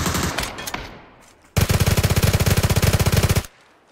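Rapid, sustained SMG burst from the battle-royale game PUBG, a loud continuous stream of shots lasting about two seconds, preceded by a few scattered distant shots and clatter.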